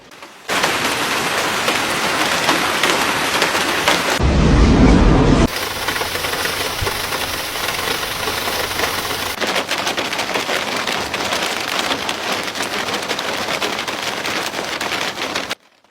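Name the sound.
heavy rain and hail storm with thunder in China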